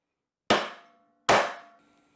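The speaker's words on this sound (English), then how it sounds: "I'm just going to use a 2-pound brass hammer and knock it through there" Two sharp metallic knocks from a 2-pound brass hammer striking a metal die, about three quarters of a second apart, each ringing briefly before fading, close and clear in a quiet room.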